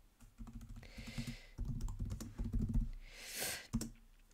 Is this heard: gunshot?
no